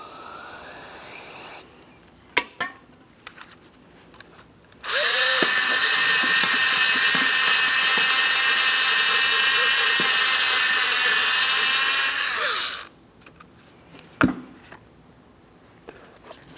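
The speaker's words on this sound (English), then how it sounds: "We're going to be using some parts cleaner and a bore brush, removing as much miscellaneous debris from inside of this as possible." A power drill spinning a bore brush with parts cleaner inside the caliper slider pin ports of a 2004-2008 Pontiac Grand Prix rear brake, a loud steady whir for several seconds, framed by a few nearby clanks and handling sounds.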